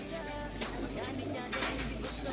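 Pet birds coo softly in a low, hollow, repeating call, faint and close, with a faint murmur of background noise behind them.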